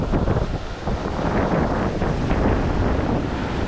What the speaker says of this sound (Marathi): लाटा मारणाची येतात मित्रांनो